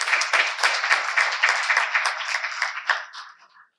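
An audience claps steadily for two award recipients at an academic induction ceremony, a dense, sustained round of applause that swells, holds, and then tapers off to silence near the end.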